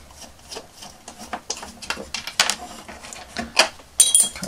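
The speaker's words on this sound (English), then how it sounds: "we're just going to unscrew the screws on the back of" Small screws being unscrewed from the back of a battered vintage 12 inch Boba Fett toy, close-up scraping, rubbing and rasping bursts in an irregular rhythm, with a faint clink near the end.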